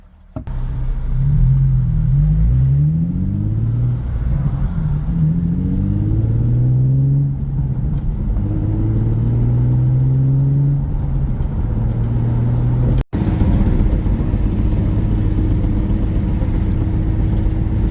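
A tired car engine, running a few quarts low on oil, turns over and revs on its first start-up, with repeated rising and falling rumbling sweeps, then a sudden break and a steadier droning hum.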